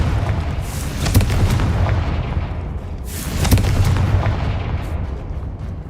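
The Confringo spell in Hogwarts Legacy goes off in an old, decayed ruin, with two loud booming blasts about two seconds apart over a heavy rumbling roar, and no voices.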